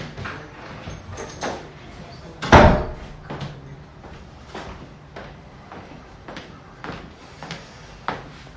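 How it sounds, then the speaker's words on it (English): A door being shut and locked indoors, with one loud thud near the middle followed by lighter scattered knocks and rattles. "Wait, let me lock the door."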